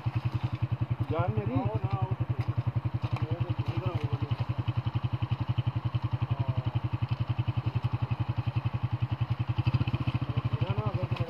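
A motorcycle idles close by on a snowy mountain road, its engine thumping in a fast, even low pulse throughout while someone talks over it.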